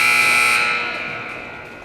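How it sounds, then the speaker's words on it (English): A loud ice hockey arena buzzer sounds to end the period, a sustained harsh electronic tone holding steady and then slowly fading over about two seconds with no talk. "Buzzer's about to sound."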